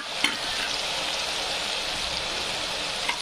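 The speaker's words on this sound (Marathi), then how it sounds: "कांदा लसूण मस्तपैकी असं फ्राय झाल्यानंतर" Onion and garlic fry with ginger and coriander for a Kolhapuri mutton curry, a steady close sizzle with faint stirring scrapes and no talk.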